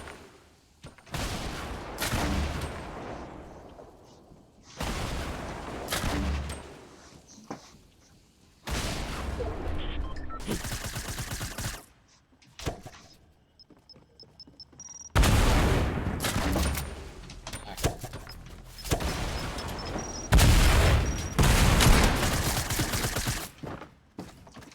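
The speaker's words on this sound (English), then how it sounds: "Where's he shooting me from?" Bursts of rapid gunfire from a Fortnite-style shooter game come in loud, dense volleys separated by short quiet gaps, with heavier sustained firing in the second half.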